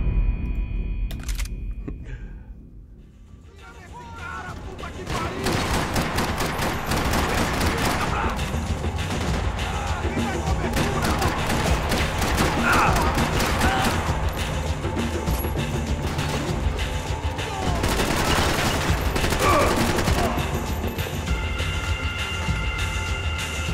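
Shotgun blasts fire repeatedly in Max Payne 3, a loud, rapid run of shots that begins after a quiet opening and continues steadily, with a few sharper peaks amid the clatter.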